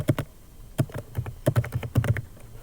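Fingers tap out a quick, uneven burst of keystrokes on a computer keyboard, close and fairly soft, with no voice over them.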